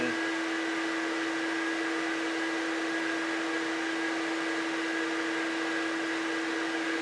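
A workshop dust collector with a drum separator runs at a steady, loud, broadband roar with a constant tonal hum, unbroken and alone for the whole stretch, no voices.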